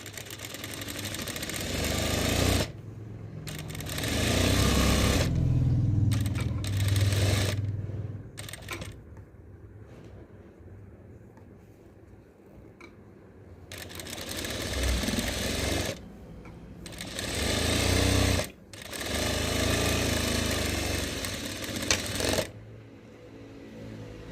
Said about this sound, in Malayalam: ഇപ്പുറത്തെ സൈഡും കൂടെ ഞാൻ അതുപോലെ സ്റ്റിച്ച് ചെയ്യുവാണേ